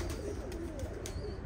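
Low, throaty cooing from pigeons kept in a loft rises and falls in short repeated phrases, near and soft, with a constant background hum of the flock.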